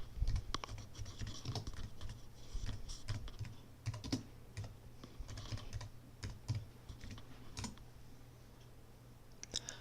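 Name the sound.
typing a command on a computer keyboard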